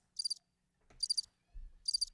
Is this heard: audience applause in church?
no